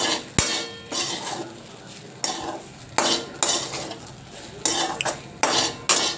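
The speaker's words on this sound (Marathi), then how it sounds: "आपण ह्या पोह्याला छान असं हलवून घेऊ याला एक जीव करू सगळ्या पोह्याला" A spoon scrapes and stirs flattened rice (poha) with salt in a metal pan in a home kitchen: about eight rhythmic scraping strokes, close and clear, with no talking.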